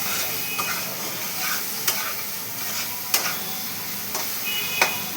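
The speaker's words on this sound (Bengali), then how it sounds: "এবার এই মশলাটা ভালো করে কষিয়ে নেব।" A spice masala with turmeric and salt sautéed in a pan for banana flower curry gives a steady soft sizzle, with sharp spatula clicks against the pan about every second, close and without talking.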